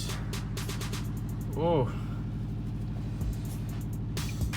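A Subaru WRX engine idles steadily after a starter replacement, a close, even low rumble with a brief whine partway through and a person speaking briefly over it.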